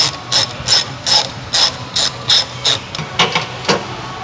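A 5.5 mm socket ratchet works a bolt on a VW Golf R MK7.5 side skirt, giving about ten sharp, close clicking bursts in an even back-and-forth rhythm.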